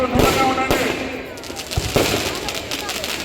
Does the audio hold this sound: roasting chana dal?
no